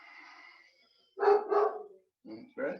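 A pet dog lets out two close, loud barks followed by a pause and then two shorter, softer barks, with a faint steady tone beforehand.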